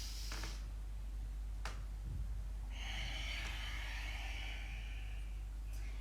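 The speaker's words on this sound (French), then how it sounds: "J'inspire." A long, audible breath drawn in through the nose during a neck and back strengthening exercise, close and fairly quiet over faint background noise, with a few brief sniffs and rustles before it.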